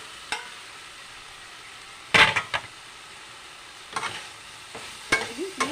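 A salted spice paste for a fish curry with fenugreek and taro stems is stir-fried in a pan, giving a low steady sizzle broken by several loud scraping stirs and clatters at irregular intervals.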